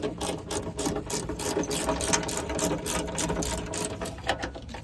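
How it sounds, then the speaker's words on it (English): Rapid ratchet clicking from a socket wrench backing out the last seatbelt screw inside a Toyota Land Cruiser 75 Series, a dense steady run of close metallic clicks with no talk. "we're just getting the last screw done out of here"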